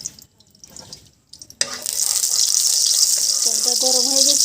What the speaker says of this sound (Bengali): আমি 1 টেবিল চামচ তেল দিয়ে দিচ্ছি।